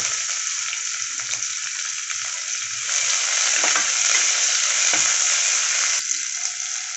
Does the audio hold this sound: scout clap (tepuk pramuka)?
no